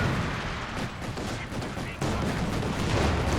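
A ZiS anti-tank gun fires through a hedge in a competitive strategy video game match. Loud, dense gunfire and booms sound throughout, with a sharp heavy blast about midway.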